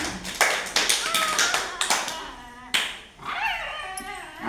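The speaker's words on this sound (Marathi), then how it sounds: "टाळ्या वाजवा." A group of children claps in quick, uneven bursts during a flower-smelling guessing game at an anganwadi, mixed with nearby voices talking.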